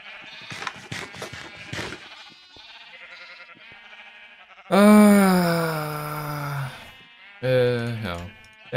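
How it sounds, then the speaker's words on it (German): Sheep in Minecraft bleat loudly in two drawn-out calls after a stretch of people talking, close and prominent. "Die Schafe fressen mir zu schnell."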